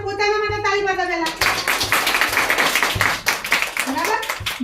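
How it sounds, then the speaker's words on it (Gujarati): Young children in a school pre-primary class clap for themselves, a lively burst of small hands clapping close by after an adult voice speaks briefly. "તમારે પોતાના માટે તાળી પાડો પહેલા"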